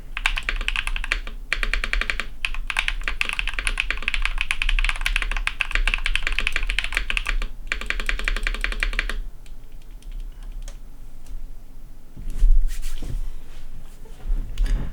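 Fast, steady typing clatters on a Tofu 60 acrylic-case mechanical keyboard fitted with sushi-themed keycaps: dense, close keystrokes for about nine seconds, then sparser, quieter taps and a few soft knocks, with no speech.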